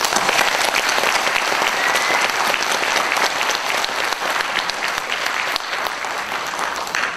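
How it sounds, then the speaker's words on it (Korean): Crowd applause fills a hall at a Korean political book launch, loud, sustained clapping from many people that holds steady for about seven seconds and tapers slightly at the end. "우리 주민에게 격려의 박수를 보냅시다."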